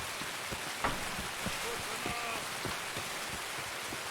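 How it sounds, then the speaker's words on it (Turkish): Heavy rain falls in a steady hiss with scattered sharper drops pattering on a surface, fairly close and continuous, with a faint voice briefly underneath. "Yağmur bastırdı."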